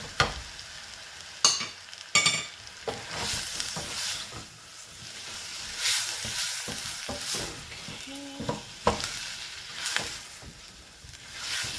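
Food sautés in salted butter in a pan with a steady sizzle and intermittent stirring clatter and scrapes, close by, running for around twelve seconds with faint bits of background noise.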